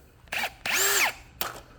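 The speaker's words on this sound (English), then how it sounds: "I went at the hole with a drill" A power drill boring out the plastic insert inside a fixed antenna mount on a Honda Prelude. Three close bursts of whining, rising and falling motor pitch, the middle one longest, with brief quiet gaps between them.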